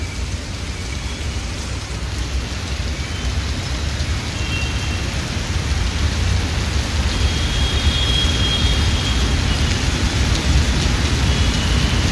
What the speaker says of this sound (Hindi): इतनी भीषण बारिश हो रही है कि क्या बताऊं मैं आपको।